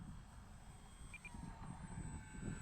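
A warbird airplane engine in a flight simulator game drones steadily at low throttle while lining up with the runway, a continuous even rumble with no talk.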